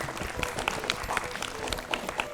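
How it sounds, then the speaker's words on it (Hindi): Studio audience applause on a Hindi children's quiz show after a correct answer, steady dense clapping filling the whole moment at moderate loudness. "तालियां."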